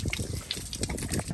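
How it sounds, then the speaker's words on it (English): Water gushing from an RV freshwater holding tank drain valve during winterization, a steady loud rushing splash that runs the whole time with no voices. "Yeah, that's a lot of water coming out of there."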